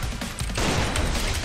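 Loud, dense gunfire plays in a video game, a continuous burst of rapid shots that fills the short stretch with no talking.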